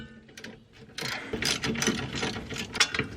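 A ratchet wrench clicks rapidly in short bursts while loosening a rear brake caliper bolt on a Subaru WRX. The mechanical clatter is close and fairly quiet.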